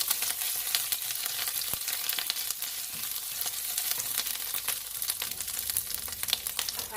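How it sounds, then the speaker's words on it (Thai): Oily sizzling and crackling of curry paste stir-frying in a hot pan, steady and close, with sharp spattering pops and occasional scraping stirs throughout. "เราจะผัดพริกแกงก่อน"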